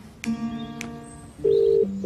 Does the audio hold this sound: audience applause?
no